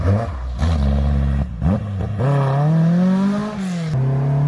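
A Škoda 200 RS Rallye car engine, heard from inside, drops off and revs again through a hairpin, with gear changes breaking the rising, loud, close drone.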